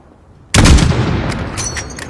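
A long-range rifle fires once in Call of Duty at a target 600 meters away, giving a single loud, sudden boom with a rumbling tail.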